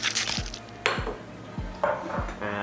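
A utensil knocks and scrapes against a bowl while oatmeal and butterscotch chips are mixed into cookie dough, with four or five distinct clinks close by and no talking.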